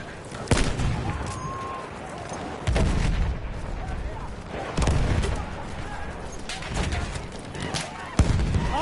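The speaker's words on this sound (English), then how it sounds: "Enemy machine gun." Enemy machine gun and artillery fire in a war video game, several loud bursts and booming shots spaced a second or two apart over a quieter battlefield background.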